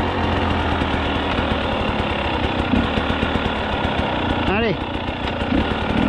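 A Husqvarna 300 TEi two-stroke dirt bike with a remapped ECU revs hard through the gears, a loud buzzing engine with rising pitch sweeps between shifts, close up, with a rider's brief voice.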